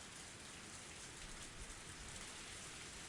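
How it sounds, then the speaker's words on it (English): Heavy rain pours steadily in a scene from the visual novel Higurashi When They Cry, a dense, even wash of falling drops with no breaks, fairly faint and continuous throughout. "Sound of falling raindrops were fierce as always."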